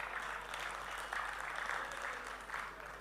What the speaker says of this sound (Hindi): नहीं थके ना तो एक बार तालियां बजा दीजिए।